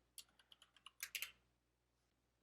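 Quick, crisp keystrokes on a computer keyboard as a terminal command is typed: a rapid burst of about ten clicks, then a pause and one final keypress, in a quiet room.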